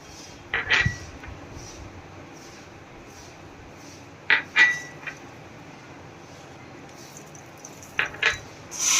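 Farali chevdo being tossed with red chilli powder and sugar in a metal dish, giving a few short clinks and scraping rattles in separate bursts over a quiet background.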